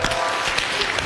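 Studio audience applause at a Chinese television talk show's Spring Festival special, a brief burst of dense, steady clapping filling the whole moment.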